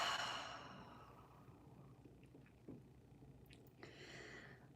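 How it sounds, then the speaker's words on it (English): A big cleansing exhale closes a guided breathing exercise, one long breathy release that begins strongly and fades slowly, followed by a few faint soft clicks in a quiet room. "One big inhale in. And a big cleansing exhale,"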